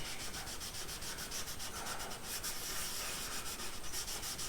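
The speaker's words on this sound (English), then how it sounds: "And we're going to rub it in." Minwax paste finishing wax is rubbed into a wood sample board by hand, a close, continuous scratchy rubbing with quick back-and-forth strokes and no talking.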